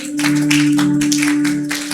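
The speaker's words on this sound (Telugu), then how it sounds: "చప్పట్లు కొడదామా? వచ్చా చప్పట్లు కొట్టడం?" Several hands clap in a quick, steady rhythm nearby at a church service, loud and continuous, with a sustained musical tone underneath.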